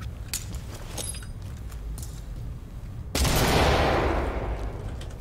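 A flashbang grenade goes off in the Ready or Not tactical shooter video game, a sudden loud bang followed by a sustained bright hiss and ringing after a few seconds of quieter background clatter and distant shots.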